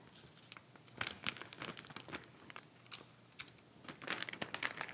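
Tape being pulled and torn while wrapping a folded gift bag, close crinkling, tearing and rustling in uneven bursts, with no talking.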